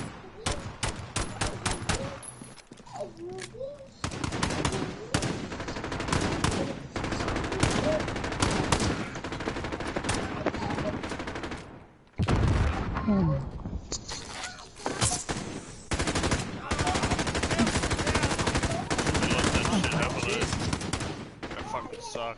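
Dense, near-continuous bursts of automatic weapon fire in Call of Duty: Modern Warfare, loud and rapid with a brief lull midway, while a player talks over the shooting.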